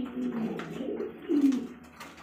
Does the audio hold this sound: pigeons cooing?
yes